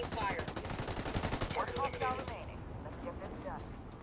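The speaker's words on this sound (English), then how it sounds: "Shit, taking fire." Rapid gunfire bursts in the Ghost Recon Wildlands shooter, sharp repeated cracks mixed with game sounds and voices talking over them, thinning out near the end.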